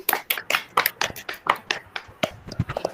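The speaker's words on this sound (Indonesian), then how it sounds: "aplaus dulu untuk kelompok Calvin" Scattered, irregular hand claps from a small classroom group applauding a student team during a peer-teaching session, sharp separate bursts over about three seconds with no steady roar.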